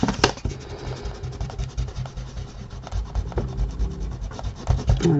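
A pencil eraser scrubbed back and forth over card to remove drawn lines on a Christmas tree card, making close, rapid, rhythmic rubbing strokes that run steadily for several seconds with no talk.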